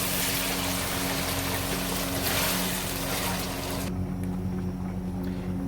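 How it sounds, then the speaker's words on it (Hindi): Water poured into chicken curry sizzling in a pan, a loud continuous hissing rush with bubbling that cuts off abruptly near the end, leaving a lower simmer. "तो इसमें थोड़ा सा भी पानी डाल देंगे, शोरबा हल्का सा कर लेंगे"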